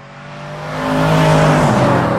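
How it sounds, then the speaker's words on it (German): A Mercedes-AMG car engine swells into a loud, close rev, the tone rising and holding with a rough, throaty roar for about two seconds. "Der Motorsound, derjenige, der das hört, der muss wissen, boah, das war ein AMG."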